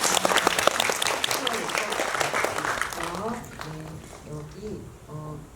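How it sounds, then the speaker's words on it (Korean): Applause from a film screening talk audience in a cinema fills the opening, then fades as a voice speaks over the tail of the clapping. "박수."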